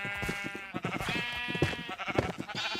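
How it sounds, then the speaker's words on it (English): Sheep bleat in a Minecraft-style zombie survival game, giving a few wavering, nasal calls that overlap one another. They sound fairly close but quiet, and no one speaks. "I might have to risk killing a sheep just to get out of this pit of doom."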